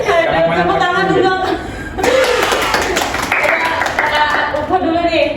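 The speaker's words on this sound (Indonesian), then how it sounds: "Tepuk tangan dulu." Clapping breaks out from a small group in a casual talk show setting, a brief patter of hands mixed with chuckles while voices keep talking over it.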